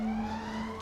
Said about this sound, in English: it's never good when you can hear sirens